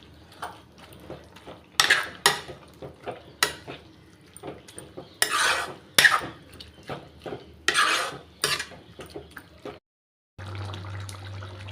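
A spoon stirs spinach and potato gravy in a metal pan, making intermittent scrapes and clinks in uneven bursts. The stirring is close and moderately loud, with a brief silence and a low steady hum at the end.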